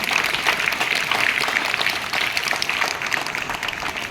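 Audience applause for Kamaraj at a Tamil debate forum on student welfare: a sustained, loud wash of many hands clapping throughout, crowd-sized and continuous.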